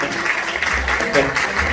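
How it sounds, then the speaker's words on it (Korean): Brief applause from an audience at a book festival author talk, mixed with a person speaking over it. "큰 박수 부탁드리겠습니다"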